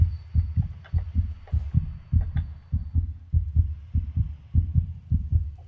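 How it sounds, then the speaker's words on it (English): A steady, loud heartbeat effect from a horror video game thuds in regular double beats, roughly two per second, over a low ominous hum, with no voices. "I hear a heartbeat."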